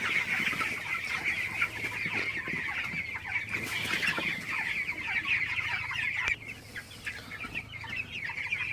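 A large flock of 21-day-old broiler chickens clucks and chatters nonstop at night, a dense, steady din of overlapping calls close by.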